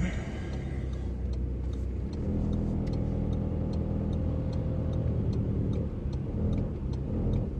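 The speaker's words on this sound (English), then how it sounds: "Revving engine" A car engine rumbles steadily, rising into a heavier, louder drone partway through, with faint ticking above the low roar.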